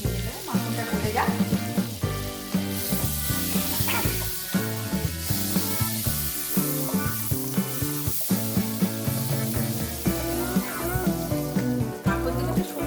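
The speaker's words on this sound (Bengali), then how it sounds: "কাজু বাদামটাকে হালকা করে ভেজে নেব, আর যাই করতে হবে হালকা আঁচে করতে হবে" Cashews fry gently in melted butter over low heat in a home kitchen, giving a steady, soft sizzle under louder background music throughout.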